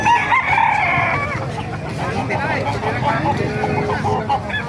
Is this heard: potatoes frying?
no